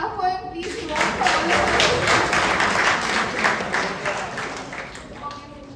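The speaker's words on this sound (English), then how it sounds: "clap for him, please" A talk audience claps in a steady burst of applause lasting several seconds, building quickly, holding, then tapering off, with no voices over it.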